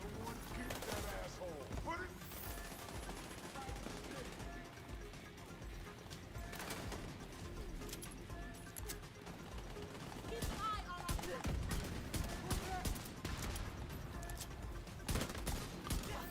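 Magnum revolver gunfire in The Division 2 rings out amid dense, continuous game combat noise, with repeated sharp shots over a busy, loud backdrop and speech mixed in.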